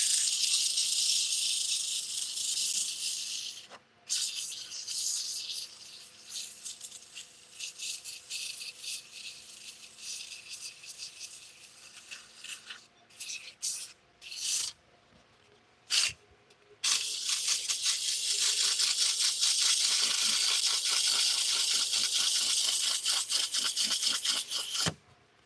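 Sandpaper rubs against a spinning wooden bowl on a 12 by 18 lathe, a steady loud hiss with a running motor hum beneath, broken by a few short pauses where the paper lifts off.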